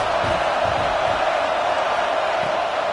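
A football stadium crowd roars steadily as a broad, dense wash of noise with no gaps, loud and sustained, with faint shouts blended in.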